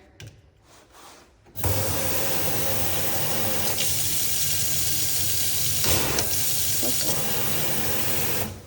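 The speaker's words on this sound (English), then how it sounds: "Got some pretty intense water pressure." High-pressure water gushes from the faucet into a deep stainless steel undermount sink, a loud, steady rushing hiss that starts abruptly after a quiet moment and runs on without talk.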